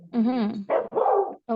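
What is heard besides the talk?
Samoyed dog barking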